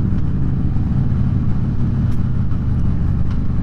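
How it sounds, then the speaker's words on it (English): Several motorcycles idle together at a bike meet, their engines rumbling loudly and steadily in a dense low drone with an uneven, out-of-sync throb, close by and with no talk. "you hear all the engines rumbling, and sometimes they're not in sync, and you hear the bop, bop, bop, bop, bop"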